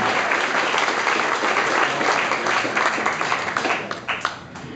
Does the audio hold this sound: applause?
yes